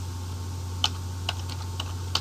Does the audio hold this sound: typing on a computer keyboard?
yes